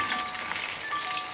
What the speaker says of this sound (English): And literally 2 minutes of frying and they are ready.